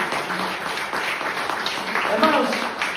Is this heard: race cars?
no